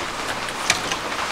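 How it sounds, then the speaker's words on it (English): Rain falling on a van and tent, a soft steady patter with a few louder drop taps close by and no talking. "You hear that rain?"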